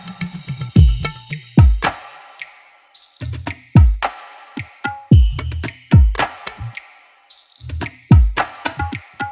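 Tabla loop from an Ableton Live track: resonant bass strokes bend downward and crisp treble hits mix in, with a sharp hand clap acting as the snare. The groove repeats in a tight, rhythmic pattern and sounds loud and close.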